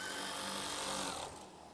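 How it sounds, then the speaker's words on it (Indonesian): Sewing machine stitching curtain fabric, a close, fast mechanical whir that runs steadily, then eases and drops off near the end of the short burst. "Setelah itu jahit lagi"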